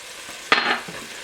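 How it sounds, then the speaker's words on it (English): Bison meat seasoned with salt and pepper hits a hot pan for browning, a single sharp sizzle burst that flares and then fades back to a low fry. "Make sure we get each side of the bison browned off a little bit"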